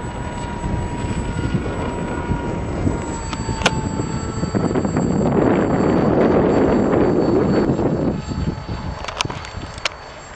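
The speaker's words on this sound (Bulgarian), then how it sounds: "Верно е силен вятър." Strong wind buffets a small drone flying outdoors, a steady broadband roar that swells louder in the middle of the stretch, with a faint high motor whine running underneath throughout.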